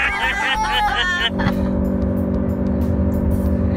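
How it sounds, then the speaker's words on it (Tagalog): A Chery Tiggo 4 Cross being driven hard: after a second of people talking, a steady, close engine and road hum takes over and continues evenly. "Braking. Braking. Braking. And a big turn."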